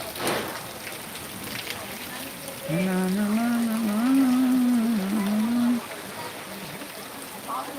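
Steady rain hisses throughout, while a voice talks over it for a few seconds in the middle.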